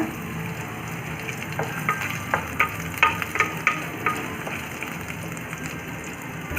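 Mustard seeds pop and crackle in hot oil over a steady frying sizzle, with a cluster of sharp little bursts in the middle.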